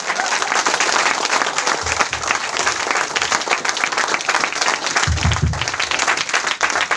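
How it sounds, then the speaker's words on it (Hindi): Loud, sustained applause from a business-meeting audience fills the room, a thick wash of many hands clapping close by, with a couple of low thumps partway through. "गणपत जोर से, ये ताली हुआ क्या?"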